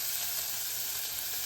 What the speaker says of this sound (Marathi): आता हा कांदा परतायचा आहे